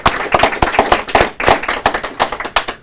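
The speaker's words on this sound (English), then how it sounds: "let's give them a round of applause." Small group at a city mayor's news conference clapping, distinct individual hand claps in a loose, uneven rhythm, close and sharp throughout.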